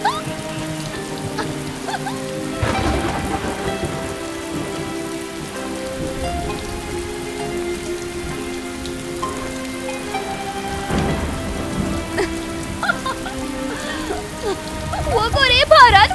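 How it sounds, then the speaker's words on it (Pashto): Heavy rain pours down steadily and evenly for the whole stretch, blended under music, with a broad constant wash and no clear break. "وګورئ باران وریږي."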